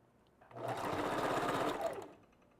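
A sewing machine stitches a V-part wig in one steady close run of about a second and a half, starting and ending abruptly, with no talk over it.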